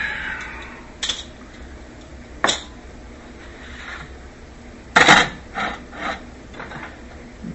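A baking dish of Italian meatballs goes into the oven with several sharp metallic clanks and knocks, a louder rattle near the end, and quiet pauses between them.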